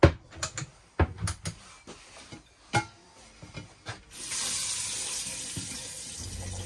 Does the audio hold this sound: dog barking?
no